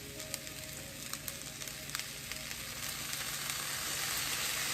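Shrimp fried rice with garlic and ginger sizzles in a hot pan, a continuous close frying hiss that swells gradually louder, scattered with small crackles and pops.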